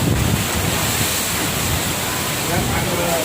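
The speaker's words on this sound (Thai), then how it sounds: "โอ้ลมแรงมากครับ" Strong storm wind roars steadily through a rainstorm outdoors, a loud broadband rush with gusting surges that masks all else, while a voice speaks faintly beneath it.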